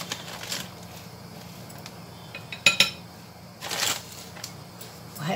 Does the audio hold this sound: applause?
no